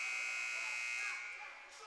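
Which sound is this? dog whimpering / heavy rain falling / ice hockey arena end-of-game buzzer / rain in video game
ice hockey arena end-of-game buzzer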